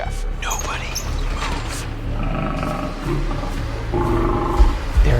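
Lion roaring nearby just before being fed steak, a deep, rough, sustained roar over a heavy low rumble, with people talking alongside it.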